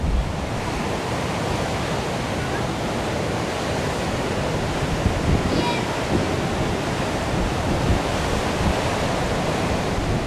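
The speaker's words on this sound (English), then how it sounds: "Short stop here at yet another empty and beautiful beach, Mughsail Beach or Muksal Beach, however you pronounce it exactly." Surf rolls and breaks on Mughsail Beach near Salalah, Oman, a loud, continuous broadband roar with wind buffeting the microphone throughout and no clear separation between individual waves.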